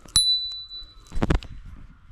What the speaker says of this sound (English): And it's got this great little bell.